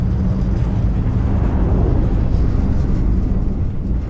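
A spaceship in the space game Starfield rattles loudly, a dense, steady low rumble with a constant roar that runs unbroken and close for the whole stretch.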